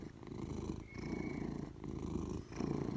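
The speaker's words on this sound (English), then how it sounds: "So purring heals." A cat purrs close up with a soft, continuous rumbling in rhythmic cycles, a slight pause between each inhale and exhale, quiet and alone.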